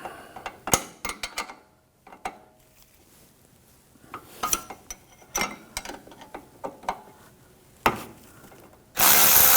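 Wrenches, 13mm on the bolt and 15mm on the nut, work loose the upper control arm link on a 2004–2009 Audi A4 Quattro, giving scattered metallic clicks, taps and ratcheting scrapes up close, ending in a burst of louder rushing noise.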